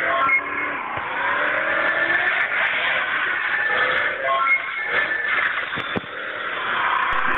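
A car engine in the hill-climb driving game Exion Hill Racing, droning steadily at medium speed with slight rises and dips in pitch, loud and continuous with no talk.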